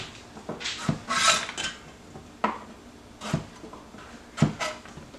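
A knife chops through carrot ends on a cutting board, producing several sharp, close knocks spaced irregularly, with faint rustling of carrots between cuts.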